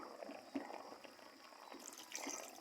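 Water pours and splashes faintly into a cooking pot, a soft continuous trickle with small drips, no voices.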